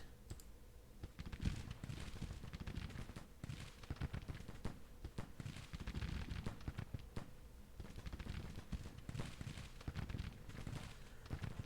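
Musket volleys crackle across a Civil War-era battlefield in the strategy game Grand Tactician, as steady, dense popping at moderate distance with no pause.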